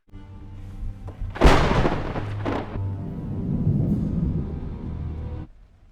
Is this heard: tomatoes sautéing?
no